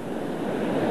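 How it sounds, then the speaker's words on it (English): A roaring waterfall beside a steep mountain stream at Mineral King in the High Sierras gives a brief, constant broadband rush, close and steady like heavy surf with no voices. "That sound you hear is a roaring waterfall"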